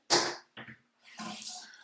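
Water splashes in short bursts as face cleanser paste is mixed with water at a sink, three close, soft wet gushes separated by brief silences, with no talking.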